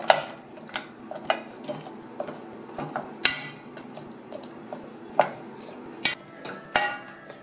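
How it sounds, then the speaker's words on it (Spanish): Fruit with a spoonful of syrup for sugar-free chia jam is boiling and being stirred in a pot, giving irregular sharp clicks and scrapes of a utensil against the pot over a low, steady background. "Ya está hirviendo"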